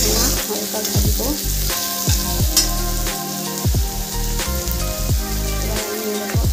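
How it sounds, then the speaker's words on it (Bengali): Carrots, capsicum and beans fry lightly in a pan for pulao, giving a steady close sizzle with repeated stirring scrapes and clinks of a utensil throughout. "এবার আমি পোলাওটা বানাবো, তাই গাজর, ক্যাপসিকাম আর বিনসটা একটু ভেজে নিচ্ছি। বেশি ভাজবো না, হালকা ভাজবো।"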